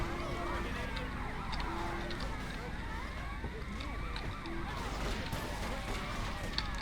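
Emergency vehicle sirens in the video game GTA Vice City Definitive Edition wail and sweep up and down over a busy, noisy background of engines and clatter, fairly quiet overall.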